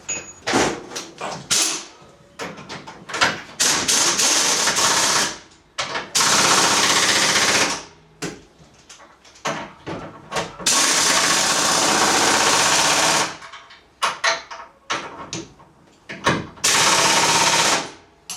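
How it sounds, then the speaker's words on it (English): Air ratchet tightening nuts with washers during final assembly of a Carlson CVX-18 aircraft, heard as repeated loud bursts of several seconds each, broken by short clanks and pauses, close by with no talk. "hand me the air ratchet and then pull the air hose over here"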